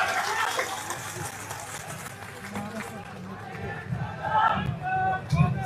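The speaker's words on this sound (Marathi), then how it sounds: "जोरदार टाळ्या." A crowd at a political party-joining ceremony breaks into loud cheering and applause, a dense, noisy roar of many voices that swells again toward the end, with shouting mixed in.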